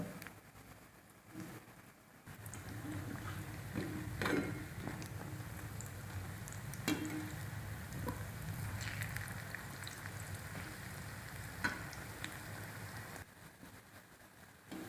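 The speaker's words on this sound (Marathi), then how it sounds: "असे दोन्ही बाजूने छान तळून घ्यायचे म्हणजे मध्ये पीठ राहत नाही कच्चे राहत नाही" Round onion bhaji made with gram flour batter fry in hot oil, giving a continuous soft sizzle and crackle throughout, close and even, with occasional clinks and light bumps.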